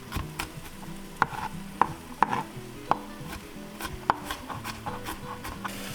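A knife slicing peeled garlic cloves on a cutting board, with several sharp, distinct taps spaced irregularly over quiet kitchen noise and a light sizzle in the background, and no talking.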